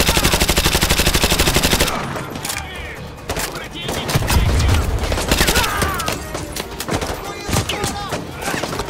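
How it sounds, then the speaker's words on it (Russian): Rapid machine-gun fire in Call of Duty: Modern Warfare 2 Remastered rattles continuously, then scattered shots and thuds, with a voice speaking over the gunfire. "Кто сзади-то стрелял?"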